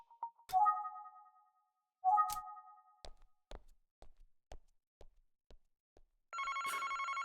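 Telephone ringing in the Famicom Detective Club video game; two long electronic trill rings with clear tones, then a string of soft taps and knocks, and finally a louder buzzing ring at the end, with no talk.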